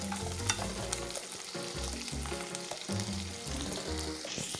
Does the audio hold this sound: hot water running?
no